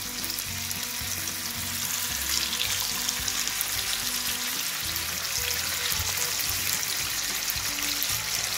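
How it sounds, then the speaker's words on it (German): Steady, continuous sizzling of small schnitzel pieces frying in hot olive oil, loud and close, with faint scraping and bubbling throughout. "Hier kommen nun unsere klein geschnittenen Schnitzelchen rein."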